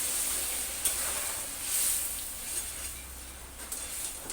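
Hot water hits a frying curry pan of potato, pointed gourd and rohu fish, giving a steady close sizzle and hiss with brief stirring clinks.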